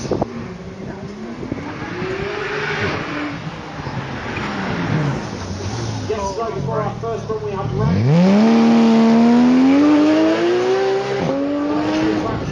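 A Porsche GT3 race car engine revs and climbs through the gears, loud and close, with someone talking over it.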